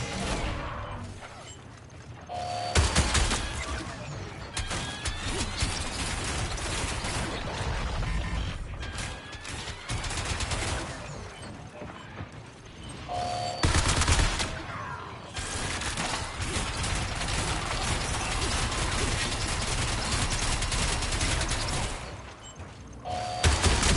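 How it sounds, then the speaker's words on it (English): Turret gunfire in a video game, rapid mechanical bursts and heavy impacts running loud and dense through most of the stretch, with short pauses between volleys. "Oh, it's a turret up there"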